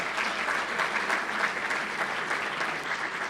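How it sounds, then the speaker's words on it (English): A dense, even wash of applause from a crowd at a bowling awards banquet holds at a steady moderate level for the whole few seconds, with no single claps standing out. "give them a round of applause"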